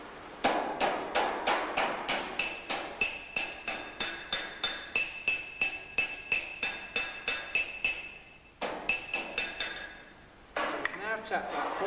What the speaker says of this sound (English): we get the hammer and we tap